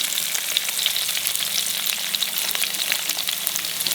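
Green chilies, coriander leaves and chopped garlic sizzle steadily in hot oil for tomato chutney, a close, dense, continuous crackle with small pops and no voices.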